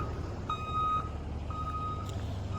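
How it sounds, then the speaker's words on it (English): A truck's backup alarm sounds two steady high beeps about a second apart over a low engine rumble, moderately near. "that backup alarm works real well"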